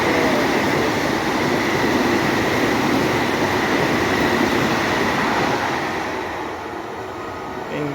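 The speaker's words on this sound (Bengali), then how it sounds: "ট্রেনটি চলে গেল।" A Vande Bharat express train rushes past at about 140 km/h with a loud, steady roar and rattle of wagons that fades slightly as the last cars pass.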